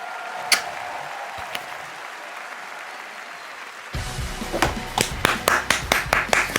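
Loud, close hand claps from a single person reacting to The Game Awards 2024, starting after a few scattered claps and a quieter stretch, then building into a quick, steady rhythm of sharp slaps.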